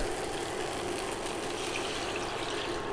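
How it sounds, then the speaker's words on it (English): Water pouring steadily into a pot of couscous, a close, continuous splashing rush with no pauses or talking. "I'm gonna add the rest of the water."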